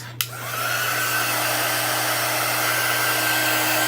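A hair dryer blows steadily to dry a wet chalk transfer screen for a pumpkin craft, starting with a click and then a constant, loud whirring roar that runs uninterrupted to the end.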